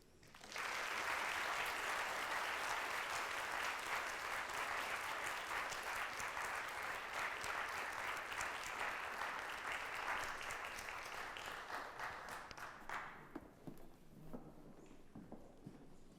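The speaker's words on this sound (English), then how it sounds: "Give another applause for her, please." Audience applause fills a community talk event, a dense, sustained clapping that runs for about thirteen seconds before thinning out into scattered claps.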